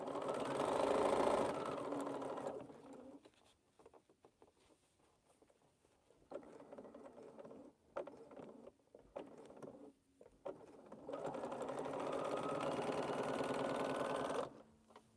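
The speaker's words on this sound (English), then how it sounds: "And we'll sew this piece right here so that I can get my piece off." A sewing machine stitches quilt pieces in steady whirring runs, with a long burst at the start and another near the end around a quieter middle stretch of shorter, intermittent stitching.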